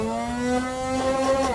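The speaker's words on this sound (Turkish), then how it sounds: "Ve bunun içinde şöyle içinde çok güzel bir motor sesi var." A battery-powered motor inside a Nerf toy dart blaster whirs with a steady, close tonal hum that shifts slightly in pitch partway through, loud and alone without talk.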